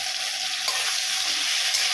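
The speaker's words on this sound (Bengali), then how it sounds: "তো তার আগে আমি কাজুটা একটু ভেজে নিচ্ছি।" Cashew nuts frying in hot oil give a loud, dense, even sizzle close by, a steady hiss with faint bubbling throughout and no voices.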